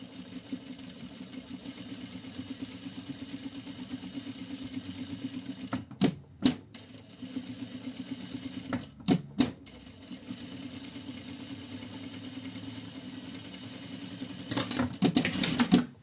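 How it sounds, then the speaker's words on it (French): A sewing machine hums continuously while stitching the curved seam of a small pocket, with a few sharp clicks and handling knocks near 6, 9 and 15 s; no one talks. "on vient coudre l'arrondi à 3 mm"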